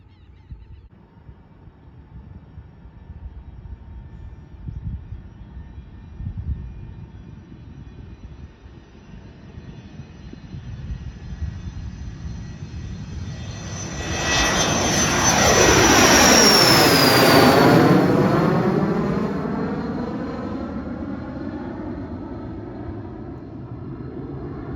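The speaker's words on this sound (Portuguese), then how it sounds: "O jato tá decolando, vai decolar agora." A jet airplane takes off in a long, loud roar that swells and climbs to a peak midway, then eases off as it pulls away, with no talking over it.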